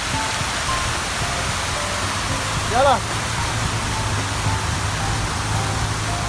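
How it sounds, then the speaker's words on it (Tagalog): Heavy rain falls on a rainy day in Al Hudaiba, Dubai, a dense, loud, steady hiss filling the whole stretch, with a brief call spoken partway through. "Lakas po ng ulan."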